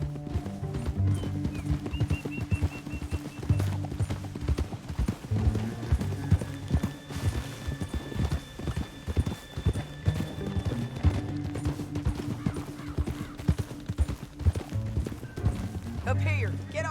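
Horses' hooves clip-clop at a gallop in the Red Dead Redemption 2 video game, a steady rhythmic beat under background game music, with brief whinny-like tones.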